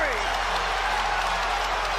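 A dense, continuous roar of a basketball arena crowd cheering during a playoff game, loud and sustained over the two seconds with a commentator's voice running over it.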